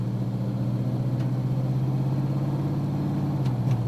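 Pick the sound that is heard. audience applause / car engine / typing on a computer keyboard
car engine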